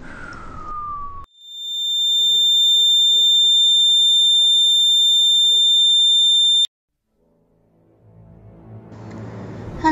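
A loud, steady high-pitched electronic alarm tone sounds for several seconds, then cuts off abruptly, followed by faint background noise.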